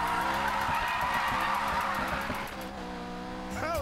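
Tires squeal and skid through a sustained drift in the Need for Speed Payback racing game, a loud continuous screech layered over a steady engine drone, easing slightly near the end.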